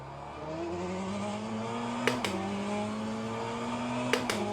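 A race car pulls out of the pit lane in the Le Mans Ultimate racing sim, its engine note climbing steadily and dropping sharply at two gear shifts, with a continuous loud drone throughout.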